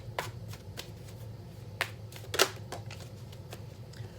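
A deck of cards is shuffled close up, a series of quick crisp riffles and snaps at an irregular rhythm, one louder burst in the middle, with no talking.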